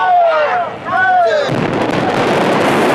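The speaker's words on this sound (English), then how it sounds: "Even though it wasn't a real explosion, it certainly created the effect" Staged explosion effect on a Transformers film shoot: after a brief stretch of voices with a falling whistle-like tone, a loud sustained broadband roar bursts in at mid-clip and rumbles on to the end.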